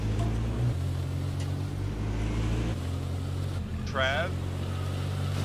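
Jeep engine in the H1Z1 video game driving off: a steady low motor drone runs continuously beneath nearby voices, with a brief rise in pitch near the end.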